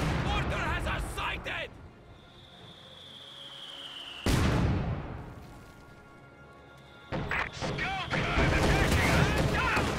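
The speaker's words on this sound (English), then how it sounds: "T-34 goes in on the 222, gets one shot off, and then will disengage" A T-34 tank firing a single shot at a 222 armoured car in a World War II strategy game, a heavy boom with a short crash and rumble, set between stretches of live commentary.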